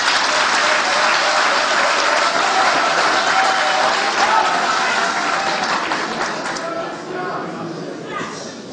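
Loud, sustained applause from a large audience at the ordinary congress of the OBUTS party, filling the hall almost unbroken before tapering slightly near the end, with a voice speaking over it.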